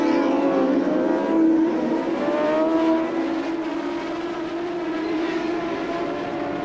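1988 Seniorstock race of 600cc four-stroke Kawasaki and Honda racing motorcycles, with engines droning loudly and steadily at high revs, slowly shifting pitch as machines pass at mid distance.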